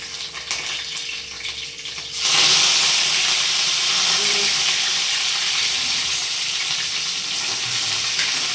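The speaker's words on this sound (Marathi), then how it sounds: "आज फक्त जिरे कढीपत्ता लसूण टाकून घेते" Cumin seeds, curry leaves and garlic hit hot oil with a sudden loud sizzle that keeps frying steadily and close, following a quieter stretch of kitchen sounds.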